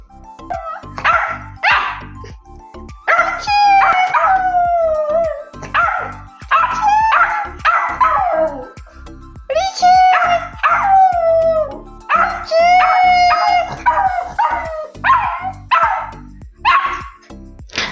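A dog howls and yips in a long series of rising and falling wails, close and loud, pausing briefly between phrases, as if singing.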